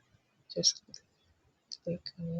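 Mouse clicks at a computer while a cryptocurrency wallet is being set up: a few sharp, close clicks separated by brief pauses, with soft voice-like murmurs between them.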